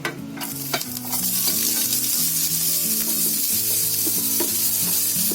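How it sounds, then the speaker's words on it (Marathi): Chopped onion, green chilies and garlic cloves sizzle and fry steadily in hot oil while being stirred, a loud continuous crackle with stirring scrapes and no talking. "कांदा आणि मिरची आपली बघा चांगली फ्राय झाली आहे"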